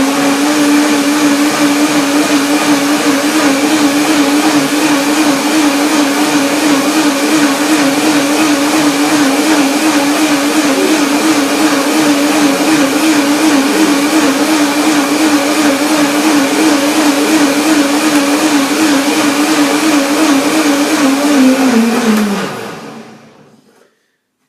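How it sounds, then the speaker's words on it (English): Blender whirring continuously for over twenty seconds while blending a curry apricot walnut dressing with avocado, loud and close with a wavering motor pitch, then winding down and stopping. "Blender dance."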